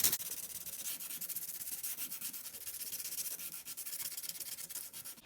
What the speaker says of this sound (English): And just sand it down a little bit like that.